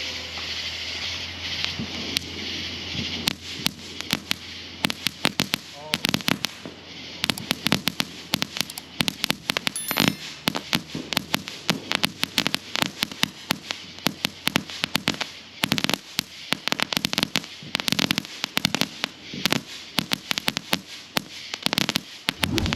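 Noisy Boys firecrackers from a pack of six, set off together, crackle and pop in a dense, rapid barrage of sharp close bangs that runs nearly continuously for over twenty seconds, with no talking.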